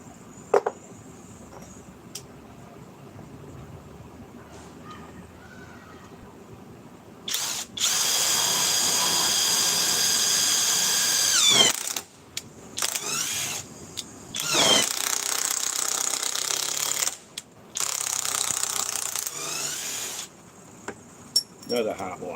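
A Ridgid power drill runs in several bursts, each a loud high whine that starts abruptly and cuts off after a few seconds, separated by short pauses and quiet handling noise, with a voice in the background.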